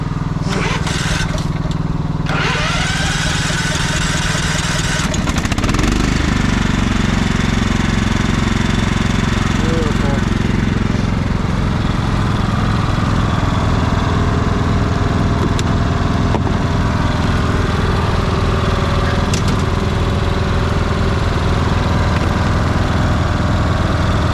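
A Cub Cadet lawn tractor engine runs loud and close throughout a test drive, a constant rough chugging drone that shifts in pitch as it revs and moves off, with brief voices early on.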